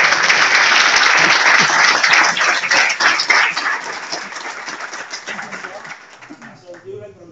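Dense, loud audience applause at a Valencian Dragon Ball fan meetup show with improvising actors, holding steady and then fading as voices start talking near the end.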